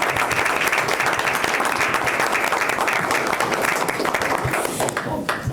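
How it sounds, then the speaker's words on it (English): Steady, dense applause from the audience at a board of education meeting, a continuous round of clapping held at full strength for several seconds before starting to fade near the end. "I'd just like to give you a round of applause."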